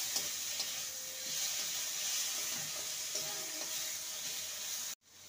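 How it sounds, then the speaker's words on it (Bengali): Potato pieces sizzling and frying with spices in a pan, a steady close hiss with occasional stirring scrapes, cut off abruptly near the end. "মশলার সাথে আলুকে ভালো মতন কষিয়ে নেব।"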